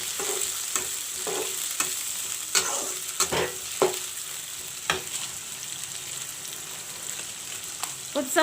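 Sliced onions fry in hot oil with hing, giving a steady close sizzle broken by frequent sharp scrapes and knocks of a stirring spoon against the pan.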